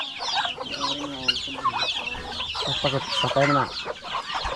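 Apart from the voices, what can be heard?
chickens clucking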